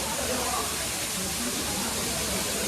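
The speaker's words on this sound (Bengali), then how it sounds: "অস্থির, সবচেয়ে থেকে বড় ঝর্ণা।" The fourth and biggest waterfall at Napittachora in Sitakunda pours in a steady, dense roar of rushing water that fills the whole short stretch without a break.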